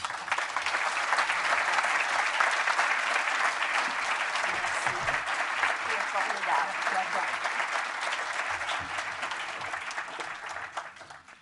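Sustained audience applause welcoming Christine Lagarde, IMF Managing Director, to the stage at a speaking event, a steady dense wash of clapping from a large crowd lasting throughout and tapering slightly at the end.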